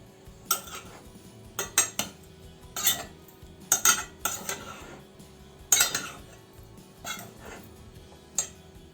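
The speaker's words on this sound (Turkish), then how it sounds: "Şimdi üzerine bir tatlı kaşığına yakın tuzumuzu da şöyle aldıktan sonra ciğerlerimizi bir güzel harmanlayalım" Beef liver pieces tossed with salt in a bowl, a series of close clinks and scrapes of a utensil against the dish in irregular bursts, with quieter gaps between.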